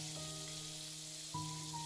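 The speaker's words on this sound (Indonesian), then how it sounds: "Goreng sampai daging ayam berwarna sedikit keemasan" Oil sizzles and crackles steadily as chicken fries, with a constant hiss and a few tonal hums in the background.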